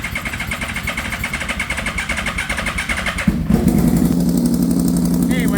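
A motorcycle engine runs with a busy, rattling tone, then jumps up in pitch and loudness as it is revved, staying high afterward.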